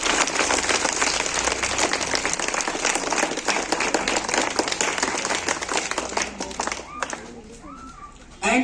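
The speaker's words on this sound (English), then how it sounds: "So give a big clap for it." Audience applauding position holders at a school results event: dense, steady clapping from a crowd fills most of the clip, fading near the end as it thins out.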